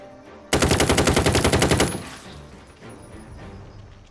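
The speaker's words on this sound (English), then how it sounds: "So Granny's got like an assault rifle." An assault rifle fires a rapid automatic burst of about fifteen evenly spaced loud shots during a Jagged Alliance 3 firefight at Port Cacao Docks. A dull echoing tail and low rumble follow the burst.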